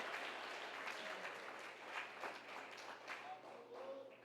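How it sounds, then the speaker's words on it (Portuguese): A church congregation applauding during a service, a sustained wash of clapping with some voices mixed in, steady and moderately distant throughout. "Em seguida você pode então dar a melhor salva de palmas"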